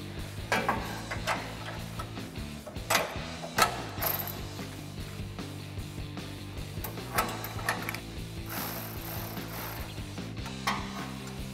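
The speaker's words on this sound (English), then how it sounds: "we can loosely secure this with a 14 millimeter wrench and 14 millimeter" Ratchet wrench with a 14 mm socket snugging nuts and lock washers on an MBRP dual exhaust system under a 2014-2022 RAM 2500 6.4L, giving quiet repeated clicking pawl bursts with metallic clinks, close up and without speech.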